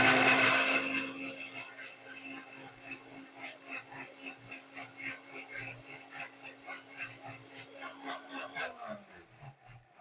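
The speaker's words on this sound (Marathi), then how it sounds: "आता आपण हे मिक्सरला काढून घेऊयात." A mixer grinder blends a drink with water, its motor whine loud at first, then a rhythmic churning pulse runs under the hum until the motor winds down near the end.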